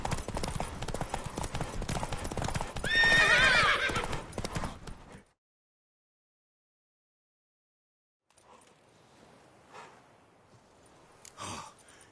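A horse in Witcher 3 trots with quick clip-clopping hooves and lets out a short neigh partway through. The sound then cuts to silence, followed by faint, scattered noises.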